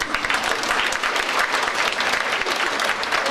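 An audience at a beauty pageant in Balvi, Latvia, claps continuously, a dense, loud burst of applause that holds steady for a few seconds.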